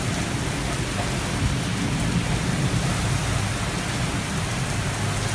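Heavy rain from a severe thunderstorm near 86th and Zionsville Road in Indianapolis, Indiana, around noon, pours down in a dense, steady, loud roar that fills the whole clip without letup.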